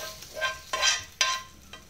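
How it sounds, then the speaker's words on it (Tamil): Wild amaranth greens (kattu keerai) stirred into a pan of crackling tempering: a few bright scraping, sizzling swishes in quick bursts, close and moderately quiet, with no talk. "இப்போ இதோட இந்த கீரையை மட்டும் இப்படி சேர்த்துட்டு இப்போ அதோட கலந்து விட்டால் போதும்"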